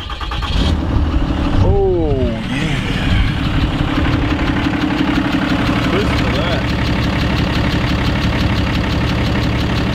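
A Cummins diesel truck engine runs at a steady idle with a continuous low rumble, while voices talk over it.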